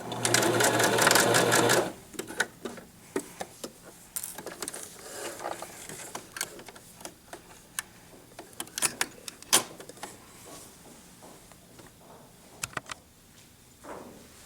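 Sewing machine back stitching a stuffed lamb toy: a loud continuous whirring run up close, then scattered short stitching bursts and clicks as the fabric is worked.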